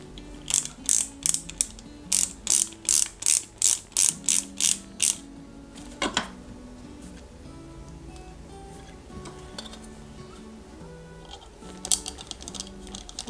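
Small screws being driven to fix the battery and its support from the back of a Ghostbusters Ecto-1 scale model kit: a quick run of about a dozen crisp ratcheting clicks, close and loud, then quieter scattered handling clicks.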